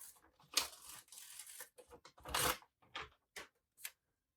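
A sticker being peeled for a planner: short crisp tearing and crinkling bursts of paper, close and quiet, in uneven bursts separated by silence, with no talking.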